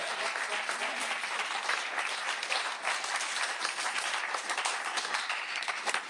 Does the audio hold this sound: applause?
yes